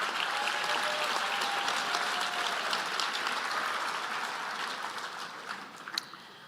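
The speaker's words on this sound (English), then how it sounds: "Please give everybody a round of applause." Applause from the audience at a health sciences graduation pledge ceremony, a sustained broad wash of many hands clapping at moderate distance, holding steady and thinning slightly toward the end.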